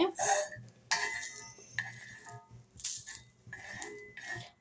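Fried onions scraped off a pan onto a plate with a utensil, several bursts of metallic scraping and clinks separated by short pauses, close by.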